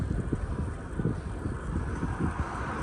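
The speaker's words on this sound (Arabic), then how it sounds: "كاين الريح بزاف" Strong wind buffets the microphone on a road through palm oases, a steady low roaring rumble with gusty swells throughout, loud and close, with no talking.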